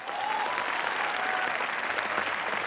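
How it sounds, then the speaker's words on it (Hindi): Studio audience at a televised comedy show breaking into loud, sustained applause, a dense wash of clapping that continues without a break from start to finish. "ठोको तालियां जरा जोरदार"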